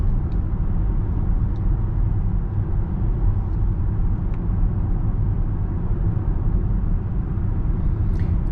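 Steady low road and engine rumble from inside a 2023 Citroen C5 X 225 HP plug-in hybrid driving at night, even and continuous, with no speech.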